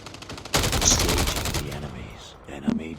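A burst of gunfire in Call of Duty Mobile battle royale, a loud rapid volley lasting about a second followed by fainter trailing shots and game sounds.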